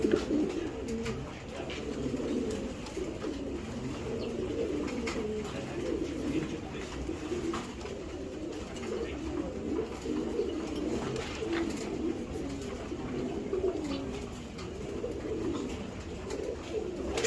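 Racing pigeons kept for breeding coo softly and continuously in a loft, with low, overlapping burbling calls and no talking.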